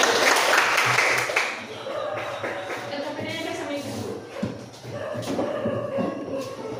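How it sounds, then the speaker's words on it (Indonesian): A burst of group applause in a middle-school classroom, loudest at the start and then thinning into scattered clapping and murmuring voices in the room. "berikan tepuk tangan untuk kelompok 1"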